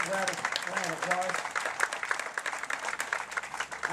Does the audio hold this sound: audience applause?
yes